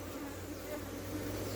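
Steady, close drone of honeybees buzzing around an open colony in March weather, a continuous hum without pauses.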